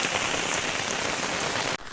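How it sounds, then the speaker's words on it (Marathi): Steady rain falls hard, a thick constant hiss of drops hitting surfaces, then briefly cuts off near the end before resuming. "इकडं बघा किती पाऊस लागतो"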